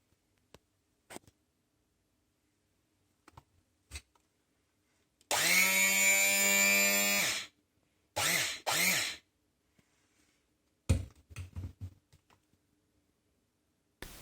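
A vintage Braun hand blender, freshly repaired, whirs in one loud sustained burst of about two seconds, then several shorter pulses, with faint clicks and handling noises in between.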